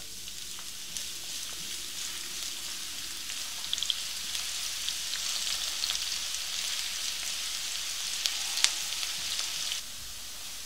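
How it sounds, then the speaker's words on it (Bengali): Chopped onions crackle and sizzle in hot oil for a chicken roast, a steady bright frying hiss with scattered small pops, close and alone. "তেলটা গরম হয়ে গেছে, আমি এখন এর মধ্যে পেঁয়াজ কুচি দিয়ে দিচ্ছি।"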